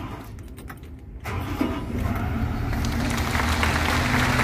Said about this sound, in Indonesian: kita mulai dengan menghidupkan kren. Ini kerennya udah on, kemudian kita start sekali saja.